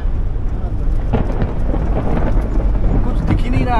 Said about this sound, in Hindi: रेतीला तूफान हम आज तक नहीं देखे। पहली बार आया